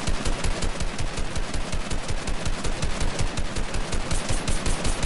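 Rapid automatic gunfire from a video game, a dense, continuous burst of loud rhythmic shots filling the whole stretch without pause.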